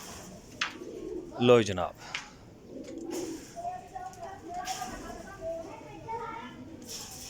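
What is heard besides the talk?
Lakha pigeon cooing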